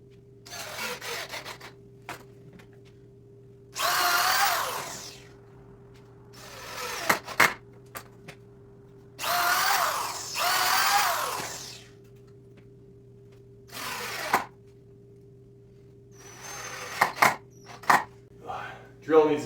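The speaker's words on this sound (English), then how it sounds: "Drill needs a charge." A cordless drill low on charge whirs in several short bursts driving screws, some stuttering and straining, with pauses of quiet and faint background hum between them.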